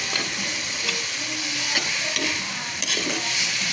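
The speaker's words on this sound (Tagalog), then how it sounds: "Yan po, tayo nagigisa ng spaghetti." Spaghetti sauce sautés in a small frying pan with a constant close sizzle, and a few soft scrapes and clicks from stirring break through it. No one speaks.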